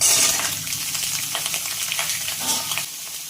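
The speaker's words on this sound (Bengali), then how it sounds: "এবার এই তেলেই দিয়ে দেবো কিছুটা ক্যাপসিকাম কুচো, আর দিয়ে দেবো কেটে রাখা আলু।" Chopped capsicum and potato sizzle in hot oil in a pan while cooking a paneer dish, a steady, loud crackling hiss with scattered pops and stirring noises throughout.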